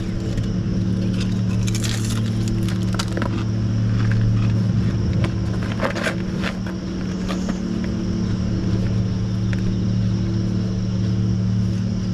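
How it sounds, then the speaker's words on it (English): Gusty wind buffets the microphone on a trail during a 50-mile ultramarathon at Afton State Park, a loud, steady low rumble with crackling bursts throughout. "Oh, that wind."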